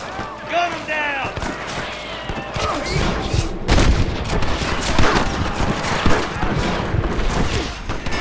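Rapid gunfire against rustler guards in Red Dead Redemption, a dense volley of loud overlapping shots and cracks rattling on for several seconds, with shouted voices and a short sung phrase at the start.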